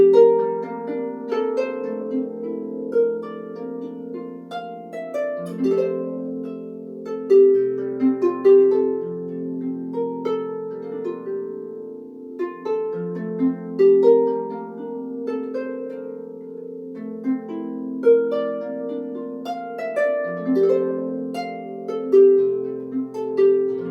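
A solo lever harp plays a gentle, flowing piece in a bright major key, plucked melody over steady low chords, clear and close with no voices.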